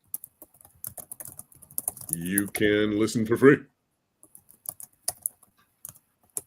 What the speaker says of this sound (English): I'm just typing it now.